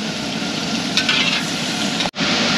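Vegetables and ingredients sautéing in a large catering pan, a steady loud sizzle with stirring scrapes and one brief break near the end.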